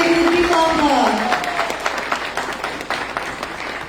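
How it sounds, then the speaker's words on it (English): An opening-ceremony audience at a world convention in New York breaks into applause after a voice speaks over the start, with the clapping continuing as a dense, fairly loud wash. "Let's give both of our big fabulous ladies a big applause."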